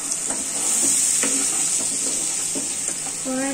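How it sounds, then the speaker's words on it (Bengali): Spice paste for potato curry with black pepper sautés in a wok, a bright continuous sizzle broken by repeated short scraping stirs of the spatula. "এরপরে মশলাটা কষিয়ে নিতে হবে।"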